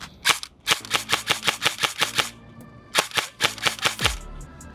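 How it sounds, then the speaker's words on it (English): An E&C retro airsoft gun fires a rapid, evenly spaced burst of about ten sharp cracks, pauses briefly, then fires a second burst of similar shots; the shots are close and crisp with no talk. "I was in semi and it did do a full auto burst,"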